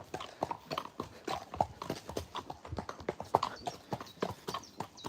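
Horse hooves clip-clopping at an easy walking pace on a paved lane, clear and close, with no talking.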